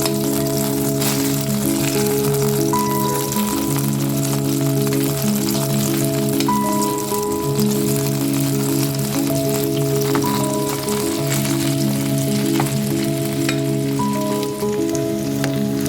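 A potato mixture fries in butter, making a loud, continuous sizzle and crackle alongside a steady background hum with brief beeping tones.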